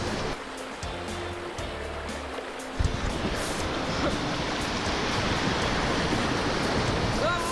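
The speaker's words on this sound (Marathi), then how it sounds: "एवढं मोठं नदीचं पात्र आणि उसळणाऱ्या लाटा बघूनच मला धडकी भरली." Turbulent river rapids roar loud and close around an inflatable raft in Vietnam, a continuous rushing wash of churning water with a brief tonal sound near the start.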